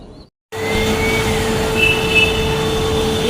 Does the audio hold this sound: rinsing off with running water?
no